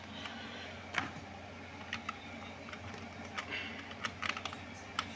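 Quiet computer keyboard keys tapped irregularly while driving in a video game, sharp clicks scattered over a low steady hum, no talk.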